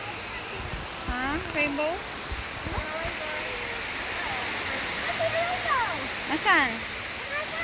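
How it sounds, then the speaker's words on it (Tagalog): Indoor waterfall in the Cloud Forest conservatory in Singapore, a steady broadband rush of falling water filling the background while several people talk and exclaim over it. "Waterfall view."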